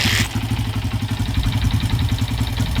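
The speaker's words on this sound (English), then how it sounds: "First kick, idle's pretty good." A Honda CF80R motorcycle engine idles steadily after starting on the first kick, with choke on. It makes a loud, close, even low-pitched putter with a rapid regular pulse.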